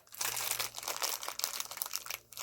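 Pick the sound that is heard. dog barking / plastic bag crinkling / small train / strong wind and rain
plastic bag crinkling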